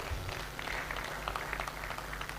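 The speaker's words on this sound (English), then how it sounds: "Please, let's clap for Professor Bamiro too." Audience clapping at a colloquium of tertiary institutions in Ondo State, Nigeria: a steady, dense patter of many hands at moderate distance, sustained evenly throughout with no speech over it.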